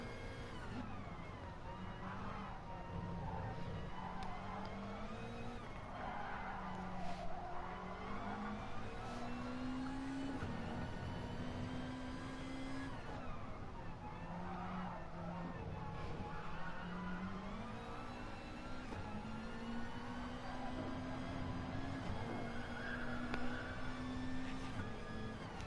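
A race car engine, a Subaru, screams through a qualifying lap of Interlagos in a racing game, revving up and dropping with gear changes over and over across the whole lap, steady and prominent.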